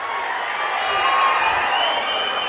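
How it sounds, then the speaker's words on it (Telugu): An outdoor political gathering's audience applauds and cheers in a steady, dense wash of clapping that swells slightly midway and holds for a couple of seconds. "గట్టిగా చప్పట్లు కొట్టి అభినందించడం"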